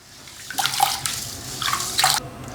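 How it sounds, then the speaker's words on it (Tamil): Raw white rice is swished and washed in water by hand, giving soft, close sloshing and splashing in a few uneven bursts with no talking. "இப்போ வந்து நாங்கள் தண்ணியை ஊற்றி நல்ல வடிவாக 3-4 தண்ணியில் அரிசி கழுவி எடுப்போம்."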